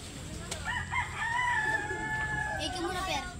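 A rooster crows once in a drawn-out call at moderate distance over soft background noise, with a brief voice in the background.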